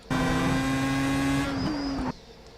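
A Pro Mazda race car engine in the iRacing sim on the Nürburgring holds a loud, high buzzing tone, then drops pitch on a downshift to third gear before cutting off sharply.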